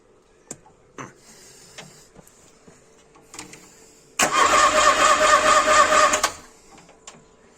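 A Ford Escort MK2 barn find, unstarted for 27 years, sits quiet amid small clicks and knocks before the starter cranks loudly for about two seconds in a fast, even whirring churn, then stops without the engine catching.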